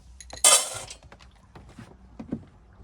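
Bowls clinking in the galley of the sailboat S/Y Citra, where the bowls sit attached, spill-proof and slightly raised: one loud close clatter early on, then a few lighter knocks and taps.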